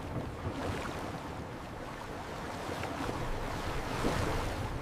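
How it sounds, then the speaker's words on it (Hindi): Strong ocean waves surge and wash continuously near the shore of Antarctic waters close to Elephant Island, a dense, unbroken roar mixed with wind at moderate loudness and no voices. "लहरें तेज हो रही हैं।"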